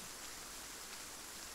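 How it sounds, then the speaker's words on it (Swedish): Rain in the video game Arma 3 gives a faint, steady hiss of falling water, continuous and even with no other sounds. "Du tittar rakt mot regnet"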